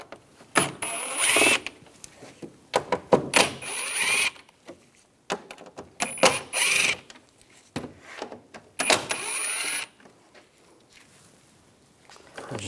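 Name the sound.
removing Volkswagen GTI headlight screws with T25 socket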